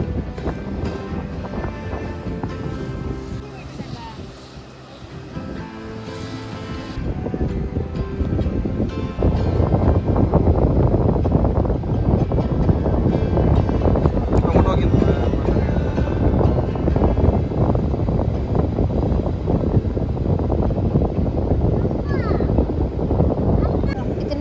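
Gusty wind buffeting the top of a lighthouse in Kannur, a broad rushing roar that strengthens and stays loud and steady through the second half, with no clear speech over it.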